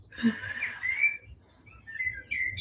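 Birds chirp and whistle in bright, warbling bursts, a cluster early on and another toward the end, over a quiet low background hum.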